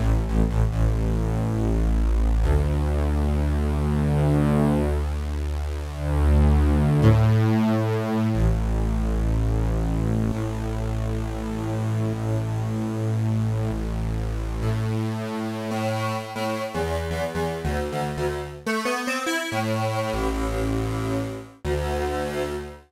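The dry, unfiltered input of a Zebra2 software synthesizer sustains as a dense, buzzy harmonic tone. Its pitch shifts steadily through changing notes for about twenty seconds, alone with no voice.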